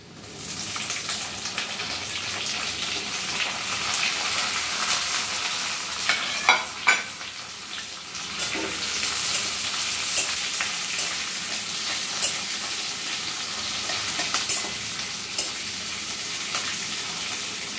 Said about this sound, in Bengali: এবার একসঙ্গে দিয়ে দেব পেঁয়াজ আর ক্যাপসিকাম।